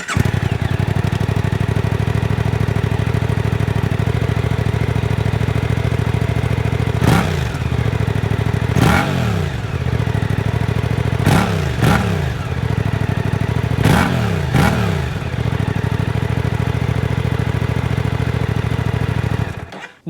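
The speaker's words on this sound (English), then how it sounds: "here's a better clip of how the 2024 GSX-8R's muffler sounds." A 2024 Suzuki GSX-8R sport bike's exhaust muffler, close and loud, idling with a steady low rumble, then several sharp throttle blips that rise and fall before settling back to idle.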